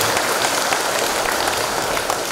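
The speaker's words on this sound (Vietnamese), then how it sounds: "Xin cộng đoàn chúng ta cũng một tràng pháo tay chúc mừng." A church congregation applauds together at the opening of a Mass, a dense, steady wash of many hands clapping that stays loud from start to finish with no pauses.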